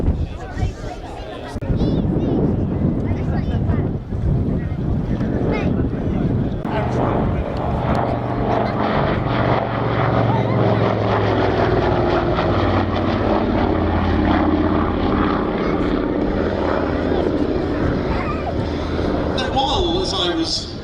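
Avro C19 Anson propeller aircraft flying at Shuttleworth, a loud, steady multi-engine drone with a throbbing low hum that rises in and holds throughout.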